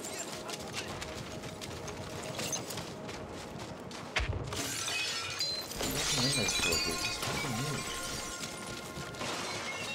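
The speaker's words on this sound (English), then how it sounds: "Make a noise so that anyone who's nearby hears the glass breaking" Glass shattering in the first-person shooter Battlefield 1, a bright crash near the middle set against a busy, loud backdrop of game ambience and other effects.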